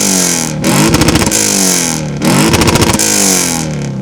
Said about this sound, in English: This car also has an X-Force exhaust, which of course sounds a little like this.